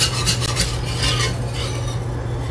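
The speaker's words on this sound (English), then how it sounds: "When you're whisking, make sure you go all over the pan so nothing is sticking on the bottom." A whisk scrapes and stirs copycat KFC gravy in a pan on a stovetop burner set to medium, a continuous close rubbing swish over a low steady hum.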